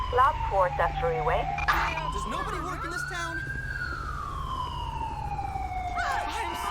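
An ambulance siren wails in GTA 5 at a traffic accident scene, its rising and falling tone sweeping slowly and loudly behind someone talking in Turkish.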